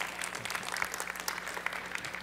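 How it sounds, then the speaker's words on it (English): Quiet applause from a conference audience at a 2015 virtual reality event, a soft, even patter of many hands clapping at a distance. "Warm round of applause."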